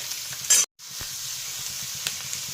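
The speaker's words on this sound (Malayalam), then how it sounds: "ഇനി അതിലേക്ക് നമുക്ക് സവാള അരിഞ്ഞ് വെച്ചിരിക്കുന്നത്" Chopped onions hit hot oil in a pan for Kerala-style beef mappas, a loud burst of sizzle followed by a brief dropout, then steady crackling frying with occasional spoon scrapes.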